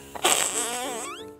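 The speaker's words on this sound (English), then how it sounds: "There's a fart in a can that works the exact same way that my kids had." A fart-in-a-can noise toy gives a loud, close, buzzing squelch lasting about a second, with a rising whine near the end.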